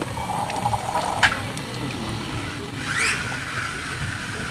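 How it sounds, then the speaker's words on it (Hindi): A small solar-powered motor pumps water through a model project, giving a steady low trickle and pour under a constant mechanical hum, with a brief splash partway through. "वहाँ से पानी फिर ये मोटर की सहायता से वापस ऊपर आएगा"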